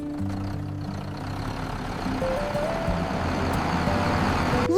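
A tractor's heavy diesel engine rumbles steadily on a country road with a low, throbbing drone, growing slightly louder as it draws nearer.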